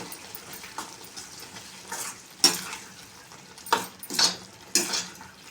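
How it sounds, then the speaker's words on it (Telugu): A spoon stirs bread halwa in a pan after milk is added, giving quiet intermittent scrapes and clinks against the metal over a soft sizzle, with no talking. "ఇప్పుడు ఒకసారి దీన్ని కలుపుకోవాలి"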